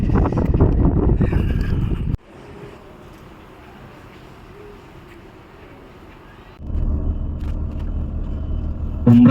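Wind blows outdoors near a bathing spot on an Umrah trip toward Mecca, a loud buffeting rumble on the microphone that drops away for a few seconds in the middle, then surges back strongly.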